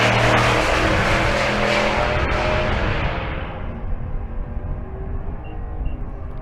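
Drag racing cars launch at Bandimere during race week, including the Nitrous Fox, with a loud roaring engine blast that recedes and fades into distant rumble as the cars run down the strip.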